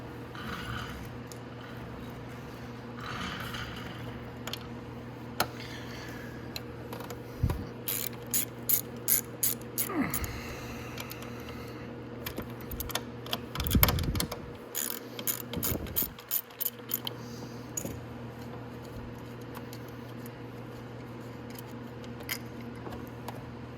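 A ratchet loosening 10 mm bracket bolts on a Venom X18 automatic motorcycle during an ignition replacement, with quiet handling at first, then bursts of rapid clicking ratchet strokes, close and without talk.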